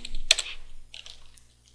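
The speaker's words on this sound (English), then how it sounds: "I'm going to do that by typing in CD space / media." Keys clatter on a computer keyboard as a Linux command is typed, a few quick clicks and a sharper keystroke followed by lighter, scattered taps, close and quiet with no talking.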